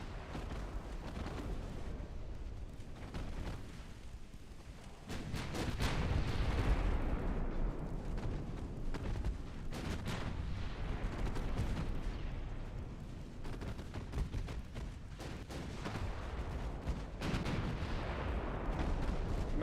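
Battleship artillery in a naval warfare game booms continuously, heavy overlapping blasts and low rumbling reports stacking into a dense, sustained barrage with no clear gaps.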